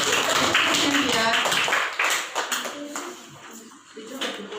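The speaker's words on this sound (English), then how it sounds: "Clap back." A classroom of students clapping together in a prepositions lesson, a burst of rhythmic group claps that fades into lighter scattered taps, with voices talking over it.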